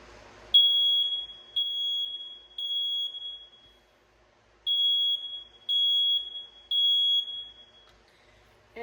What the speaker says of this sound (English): the fire alarm today is getting coded on continuous